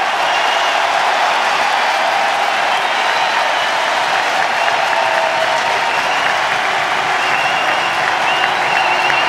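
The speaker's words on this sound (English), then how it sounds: "Here comes the crowd" Loud, steady roar of a Cubs baseball stadium crowd cheering and applauding during a comeback, a continuous wall of clapping and shouting throughout.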